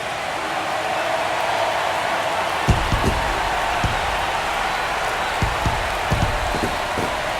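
Dense, steady roar of a large stadium crowd at a Cleveland Guardians vs Detroit Tigers ALDS playoff baseball game, a continuous wash of cheering and applause with a few sharper thumps and claps standing out near the listener.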